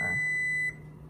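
A kitchen timer beeps while sourdough chocolate bread bakes, one loud steady electronic tone lasting about half a second before it is shut off, leaving quiet room noise.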